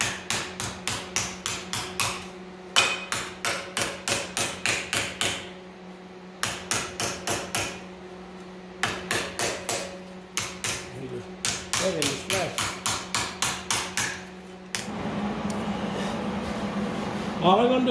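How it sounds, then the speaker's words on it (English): Steady bursts of rapid hammer blows as a sheet metal edge is rolled over a small T-dolly for a custom body panel, loud and close, grouped in rhythmic runs separated by brief pauses, ending with a steadier hum. "All I'm going to do here now is roll the edge on my little T-dolly."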